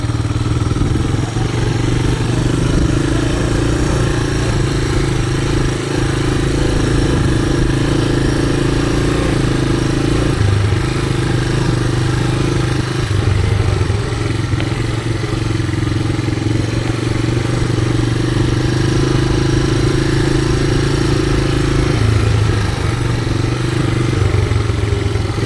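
A mower engine running steadily while cutting along a road edge, a loud, even mid-pitched drone with slight clatter and brief dips, close and continuous with no talking.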